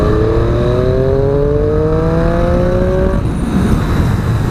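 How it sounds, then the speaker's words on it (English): Triple-cylinder engine of a 2017 Triumph Street Triple RS motorcycle revving, a loud, close, rising whine climbing steadily for about three seconds before dropping back to a rough idle, no talk. "It's this triple engine and the sound it makes."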